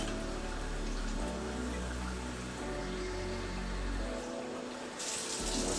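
Tap water runs steadily while beef tripe is rinsed for tacos de tripa, a continuous close splashing and gushing stream that briefly cuts off and then resumes.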